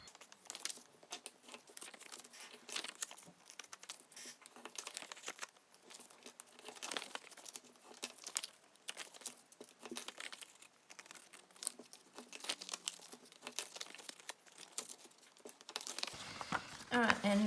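Paper is folded by hand while making a cutter divider, with close, continuous crinkling and rustling and small taps, louder toward the end, as a person speaks quietly over it.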